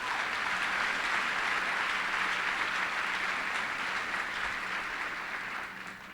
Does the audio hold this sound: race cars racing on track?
no